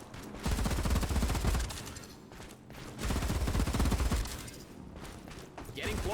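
Automated turret gunfire in Showgunners, bursts of rapid mechanical firing that swell and fade in waves, heard close and fairly loud, with a voice speaking at times between bursts.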